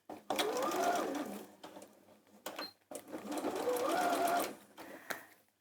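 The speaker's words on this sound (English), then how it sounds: "onto the machine and stitch it across" A sewing machine stitches fabric for toy making in two quick bursts of rapid mechanical whirring, each roughly two seconds long, separated by a short pause.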